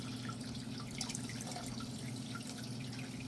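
Water pours and drips steadily out of the bottom of a fish tank filter, a faint continuous trickle over a low hum, with no talking.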